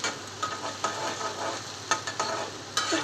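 Sliced chicken frying in a pan with capsicum, onion and chopped carrot, giving a steady close sizzle broken by the repeated scrape and clatter of stirring, with no voices.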